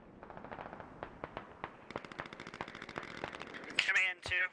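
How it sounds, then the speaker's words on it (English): Incoming mortar fire in the military shooter game Squad comes as a string of sharp, distant cracks and thuds, loosely spaced and building toward a louder cluster of blasts, with a voice on the radio near the end. "Got some more mortars coming in on that corner."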